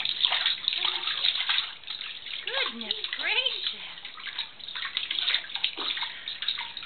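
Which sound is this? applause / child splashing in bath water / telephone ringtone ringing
child splashing in bath water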